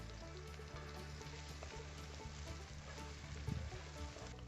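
Onions sizzling steadily in a pan after a pinch of salt is added, a low, continuous fry hiss with faint stirring scrapes, quiet and close with no talking.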